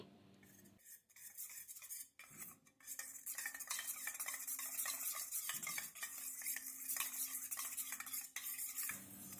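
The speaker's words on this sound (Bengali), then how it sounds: "আর এই বাটির মধ্যে নিয়ে নিচ্ছি 1 চামচ কর্নফ্লাওয়ার, আর অল্প একটু জল দিয়ে আমি কর্নফ্লাওয়ারটাকে গুলে রাখছি।" A spoon stirs a spoonful of cornflour into a little water in a bowl, giving a continuous close scraping and clinking against the bowl with brief pauses and no voices.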